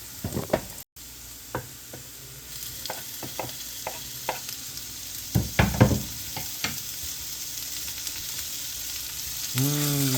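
Bacon sizzles in a skillet with a steady broadband frying hiss, punctuated by scattered pops and crackles and a few louder spatters near the middle, all heard without speech.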